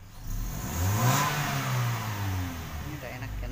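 Petrol engine of a Toyota Kijang Innova after a spark plug change and injector cleaning, revving smoothly up and down at close range, a continuous rising and falling drone with talk over it.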